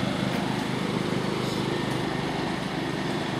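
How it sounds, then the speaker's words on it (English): A small nitro race engine revs loudly and close by, a harsh, buzzy high-pitched whine that holds steady and unbroken throughout. "So that's my little engine."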